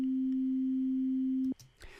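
A synthesizer test tone plays back as a pure, steady low sine hum for about a second and a half, then cuts off abruptly, leaving faint clicks and a little room noise.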